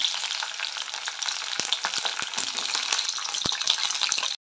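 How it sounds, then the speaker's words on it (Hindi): Okra dropped into hot oil in a kadhai hisses and crackles in a steady, bright sizzle, with a few sharp pops and spatters scattered through, close and continuous until a brief cutoff at the end. "तेल भी गर्म हो गया है। तो अभी मैं भिंडी को डाल दूँगी।"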